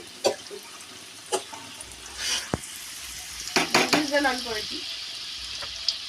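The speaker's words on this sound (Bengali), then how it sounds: "এগুলো আবার ভাজতেছি" Potatoes for biryani sizzle in hot oil with a steady frying hiss, punctuated by sharp clinks of a utensil against the pan and a brief voice.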